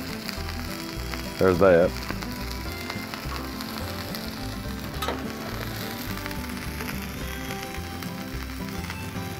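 Fries sizzle in canola oil on a Blackstone griddle with a steady, crackling hiss throughout, and a voice briefly speaks near the start.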